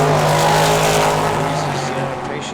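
Drag racing cars at the Hangover Nationals roar loudly off the line together at a green light start, a dense sustained engine howl that fades slightly, with a commentator talking over it.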